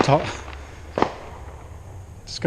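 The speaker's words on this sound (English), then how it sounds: "to talk through these fireworks" Fireworks crack outdoors on the 3rd of July, two or three sharp distant pops spaced apart, heard under someone talking nearby.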